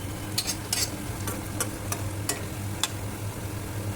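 Onions frying in a pan for paneer biryani, a steady soft sizzle broken by several sharp scraping stirs of a spoon, close up with no talking.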